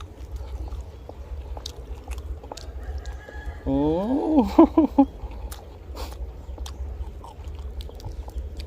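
A rooster crows once outdoors in the morning, a clear wavering call in the middle of a quiet stretch, with occasional faint clucks and small knocks around it.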